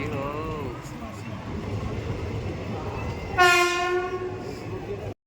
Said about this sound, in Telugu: ఇప్పుడు మనం వచ్చేసి మన ట్రైన్ వచ్చేసింది